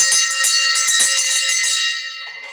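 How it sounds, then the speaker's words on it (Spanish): A small hand bell rings out bright and close in a quick shaken burst of strokes, its metallic tone lingering and fading toward the end. "Y suena la campana cuando yo cierro una venta."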